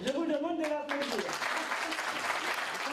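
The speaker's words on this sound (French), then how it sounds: "Je vous demande de l'applaudir." An audience claps at an event in Constantine, the applause rising as a voice trails off and then holding as a dense, even patter to the end.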